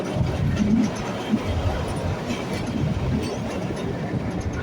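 A train winds through the hills near Shimla, a dense, steady rumble of wheels and carriages with faint rhythmic clatter, loud and continuous throughout.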